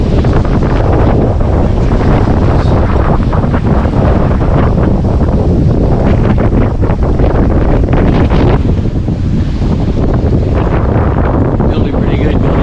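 Strong wind of about 22 knots roars across a double-reefed sailboat at sea at nightfall, a loud, constant buffeting rush with water and hull noise underneath.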